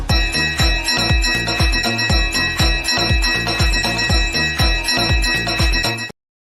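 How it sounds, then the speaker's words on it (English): A bell rings in a rapid, steady series of about a dozen bright metallic strikes, each with a short ringing decay, loud and close, running for about six seconds before stopping abruptly. "Ring the bell."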